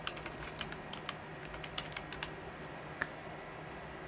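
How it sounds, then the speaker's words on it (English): Soft, quick keystrokes on a computer keyboard while entering a link name and website address in Gmail, an irregular patter of light clicks close by in a quiet room. "I'm going to type Google and the website address."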